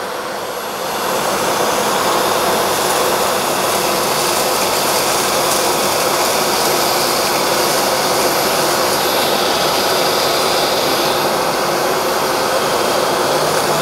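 Dyson V12 Detect Slim cordless vacuum running in auto mode, a loud, steady high-pitched whine and airy rush that holds constant after a brief start, with no talking.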